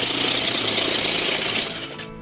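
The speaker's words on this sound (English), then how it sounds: "It breaks up easily using a large jackhammer like this." A large jackhammer pounds continuously in a loud, dense rattling roar close by, breaking up an unreinforced concrete slab, then cuts off at the end.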